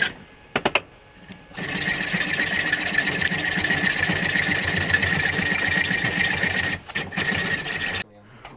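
A power cutter or grinder slices a trike axle in half, with a steady, loud, high-pitched whine holding for several seconds between short clanks and pauses at the start and end.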